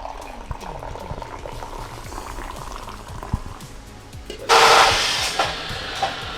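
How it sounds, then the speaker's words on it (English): A fresh pot of coffee brews in a workshop, a bubbling, gurgling boil that runs steadily up close before a louder hissing surge near the end. "Got a fresh pot of coffee on."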